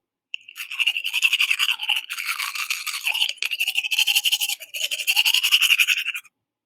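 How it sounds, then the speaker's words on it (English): Rapid scrubbing strokes of a toothbrush, rhythmic back-and-forth bursts with a couple of short pauses, close and alone. "this might be the sound of someone brushing their teeth."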